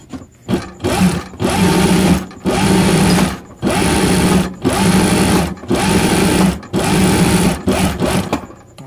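Piping sewing machine stitching with two closely set needles: loud, close whirring bursts of rapid stitching, about eight runs separated by brief pauses.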